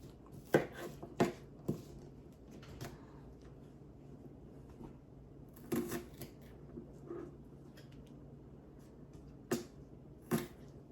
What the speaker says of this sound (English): And these right here, we're gonna cut these tips off